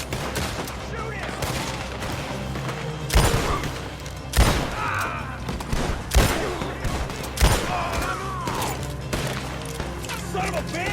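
Repeated gunfire from a Red Dead Redemption 2 shootout, with several loud, sharp shots spaced a second or two apart over steady game ambience, and voices shouting between the blasts.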